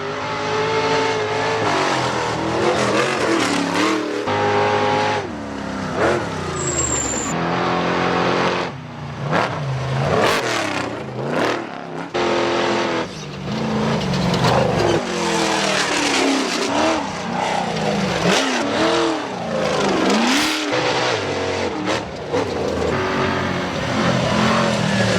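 Ultra4 off-road race cars roar past at Lake Havasu, engines revving and rising in pitch as they sweep close by one after another, loud and continuous with occasional tire noise.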